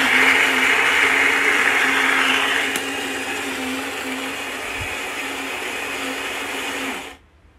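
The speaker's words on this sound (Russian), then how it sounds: "Давайте сделаем кофе, посмотрим, как у нее это получается." An older, high-mileage Saeco Incanto Deluxe coffee machine grinds and brews with a loud steady whirring drone that drops to a lower hum midway, then cuts off abruptly.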